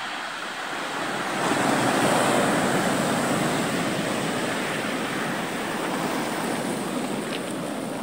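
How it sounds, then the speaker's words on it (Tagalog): Large sea waves surge and break steadily along the Dingalan, Aurora shore ahead of an approaching typhoon, a loud continuous roar of surf with no voices over it. "yung alon malalaki na oh"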